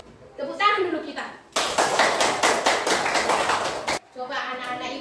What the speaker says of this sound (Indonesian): Tepuk tangan dulu kita